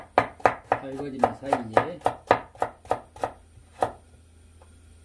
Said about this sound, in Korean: 딱딱한 재료부터 썰어 넣겠습니다.